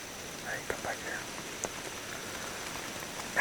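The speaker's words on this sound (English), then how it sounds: "You can hear the raindrops falling, but that's not rain, it's just falling from the trees." Water drops shaken loose from trees by wind at daybreak in the woods patter sparsely and softly onto leaves and ground, a few scattered taps over a faint steady breeze.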